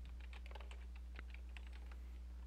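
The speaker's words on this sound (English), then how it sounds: "just type in final grade." Quick typing on a computer keyboard, a close, faint run of light clicking keystrokes over a steady low hum.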